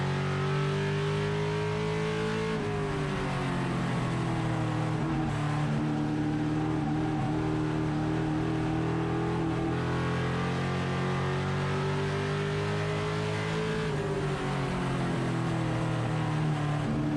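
Race cars drone loudly at Stafford Speedway during a weekly race, engines running side by side in a steady, continuous roar whose pitch rises and falls slightly as the cars work through the laps, with no break in the sound.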